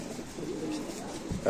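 A Chua Chandan pigeon coos softly a couple of times, low and close, over a faint background murmur.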